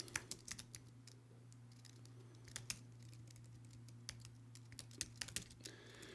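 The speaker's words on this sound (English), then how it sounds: "I'm just typing it out. I can't type and talk at the same time." Typing on a computer keyboard produces a quiet, irregular patter of sharp key clicks in uneven bursts over a low steady hum, with no voices.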